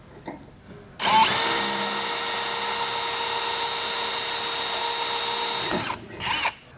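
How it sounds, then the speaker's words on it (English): A pilot drill bit bores holes in preparation for mounting a replacement RV bumper on a 2020 Dutchmen Coleman trailer. A loud, steady, high-pitched whine runs for about five seconds alone, then stops abruptly. "Now we're going to take a pilot drill bit and drill out our four holes."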